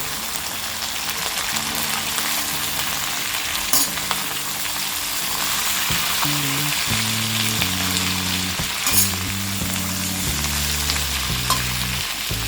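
Ivy gourd (tendli) fries in a pan with turmeric and salt for a dry Indian sabzi, giving a steady, loud sizzle and crackle with occasional stirring scrapes and no talking.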